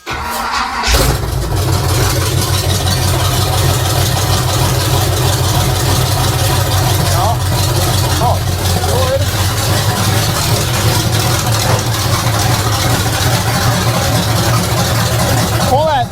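A 1979 Chevrolet K20 square body truck engine catches after a brief crank, then settles into a loud, steady, rumbling idle that runs unbroken to the end.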